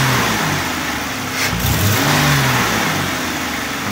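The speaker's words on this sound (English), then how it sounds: "And if I rev it, nothing happens." 2004 Buick LeSabre 3.8 engine with a dead mass airflow sensor: a loud, close, continuous engine drone that swells slightly in the middle, giving only a weak, flat rise rather than a sharp rev.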